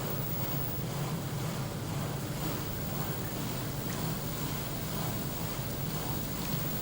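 Wavemaker paddles driving water in a wide laboratory wave tank produce a continuous, loud, broadband wash and rumble, steady throughout with no distinct individual splashes and no talking.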